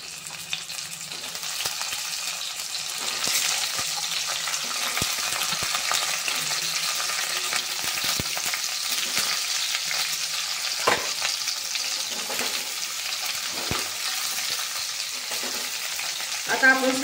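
Masala-stuffed eggplants fry in hot oil. A steady, even sizzle runs throughout, with occasional light clinks and scrapes of stirring and a quiet voice near the end.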